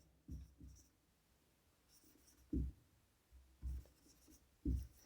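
Notes are written by hand during a biology class, with a handful of short, scratchy pen strokes, some in quick pairs, separated by quiet gaps and heard up close at low volume.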